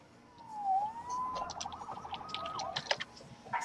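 A police siren wails up and down at moderate distance, starting with a rising whoop, with some clattering noise toward the end.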